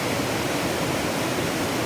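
Water pours over a river weir in a steady, close, full-bodied rush of broadband roar that holds constant throughout with no voices.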